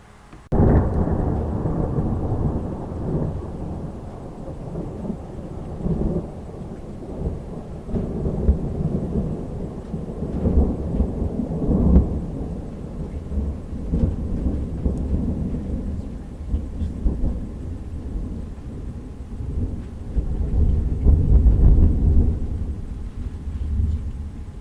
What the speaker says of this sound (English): that was a really loud thunder clap